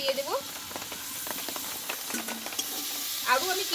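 Potatoes and pointed gourd sautéed with spices in a pan for Bengali alu potoler dom, with soft scraping stirs and a faint frying sizzle, brief voice-like squeaks at the start and end.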